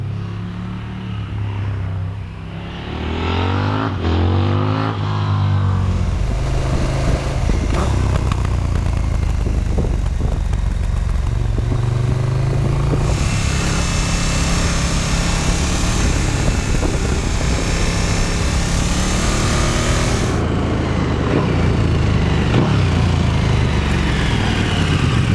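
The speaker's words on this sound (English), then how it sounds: "So I hopped on the Super Duke GT and headed back up into the hills." A KTM 1290 Super Duke GT motorcycle climbing into the hills on Gran Canaria, its loud engine droning steadily with rising and falling revs through gear changes, heard close with wind rush.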